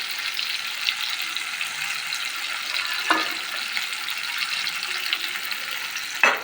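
Stuffed brinjal curry gravy sizzles steadily in a pan with a dense, close hiss, broken by two brief clatters and no talk.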